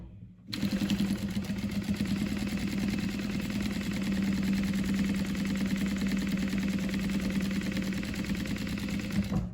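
A sewing machine top stitches along the zipper of a fabric laptop sleeve, starting abruptly and then running as one fast, steady, close-up whirring rattle that continues without a break.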